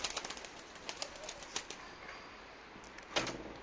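Young pigeons of a Terminator pigeon line flying overhead, their wings giving a scattered series of sharp flaps and claps, with one louder burst of wingbeats near the end.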